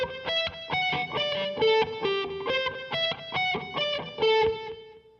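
Distorted electric guitar plays a melodic phrase that keeps returning to a high G pedal tone, with evenly spaced, bright, sustained notes, loud and alone.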